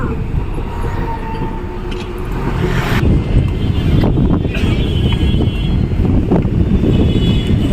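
Wind buffets the microphone outdoors near a temple in Guwahati, a loud, steady low rumble that swells slightly midway, with faint background noise.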